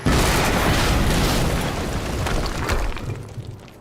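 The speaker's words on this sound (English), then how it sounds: "we just heard an explosion near the harvesting perimeter" A loud explosion in the video game Quantum Break, a heavy broadband blast that rumbles on and slowly decays over several seconds, with no speech.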